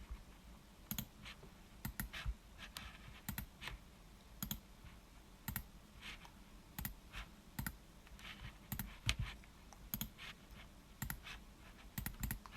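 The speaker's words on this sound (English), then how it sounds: "There's a lot of clicking going on here." Computer mouse clicks sound while files are copied and replaced on a Windows 7 PC, sharp faint ticks arriving in irregular bursts and pairs over a quiet room hum, with no talking.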